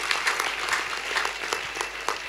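A congregation claps steadily and densely in appreciation of the CPCT church council during a bishop's testimony sermon, a continuous moderately loud burst of many hands lasting a couple of seconds.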